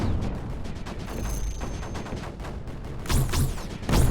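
Mortars firing bombs in the strategy game Creeper World 4, a steady run of dull thudding launches and bursts, with sharper, louder blasts standing out near the end, no voices.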